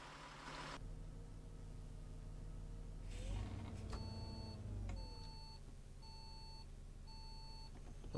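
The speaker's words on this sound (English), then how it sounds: "Oh, it has audible indicators" Turn indicator on a Go-Ahead ADL bus in OMSI 2, London, ticking in a steady repeating beep pattern, regular and clear over a low engine hum, with no talk.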